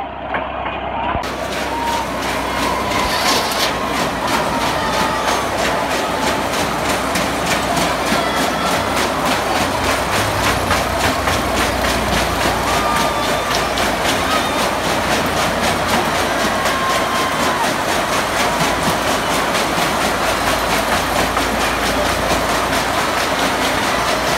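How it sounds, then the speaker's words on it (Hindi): A train runs on its rails with a steady, loud rumble and rhythmic clatter that persists throughout, with some faint chatter and background noise mixed in. "ट्रेन अभी चलाते"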